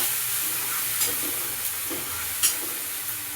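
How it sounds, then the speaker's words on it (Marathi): Chopped tomato being stirred into a pan of frying drumstick (moringa pod) vegetable masala, giving a steady soft sizzle with a few light scrapes and clicks of the spoon, fairly close and alone. "आता आपण हा टोमॅटो कट केलेला आहे ना, तो याच्यामध्ये घालून घ्यायचा आणि छान असं फिरून घ्यायचं मस्त।"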